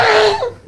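A single loud, close human sneeze: a sharp burst that trails off into a short falling vocal tone.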